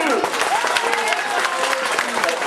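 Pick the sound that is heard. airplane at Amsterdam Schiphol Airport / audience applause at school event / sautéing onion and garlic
audience applause at school event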